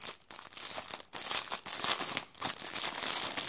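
Small cardboard box of a Joy-Con repair kit being opened, with crinkling and tearing of packaging in close, uneven bursts that continue steadily without any talk.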